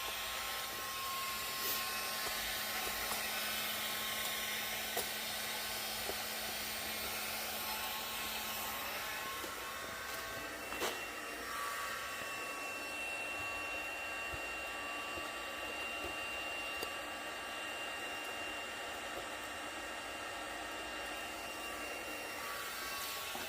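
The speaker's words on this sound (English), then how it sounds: "And the most important, the good old heat gun." A heat gun runs steadily for window tint shrinking, giving a constant airy blowing hiss with a faint motor whine that lasts the whole stretch without pause, at moderate loudness.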